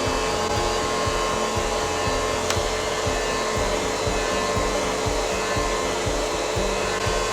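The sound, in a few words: UWANT dog hair vacuum running while clipping dog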